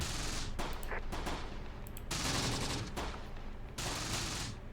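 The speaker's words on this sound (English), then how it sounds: "Good shooting, boys. Good shooting." Bursts of rifle and machine-gun fire in the Italian hills from the World War II strategy game Close Combat The Bloody First, several rapid volleys separated by short gaps, crackling and fairly distant, with no talking.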